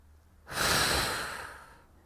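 A single long, forceful exhale through the mouth during a resistance-band back exercise, close to the microphone, swelling quickly and tapering off over about a second and a half.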